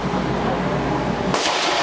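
One sharp, loud gunshot from a revolver firing .38 Special rounds cracks out near the end, following a stretch of steady indoor range background noise.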